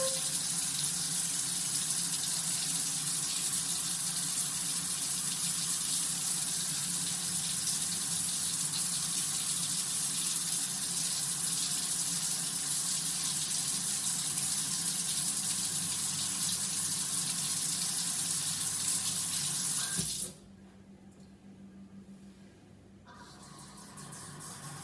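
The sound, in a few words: water running from MOEN smart kitchen faucet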